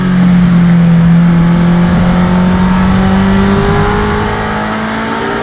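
An MG F with a K-series engine and Toyosports exhaust accelerates hard through a corner toward the top end, a loud, close engine note climbing steadily in pitch with no one talking.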